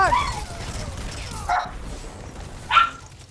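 During a Destiny 2 Crucible match, a dog gives a few short, spaced yips and barks, fairly close, over a low hum of game sound.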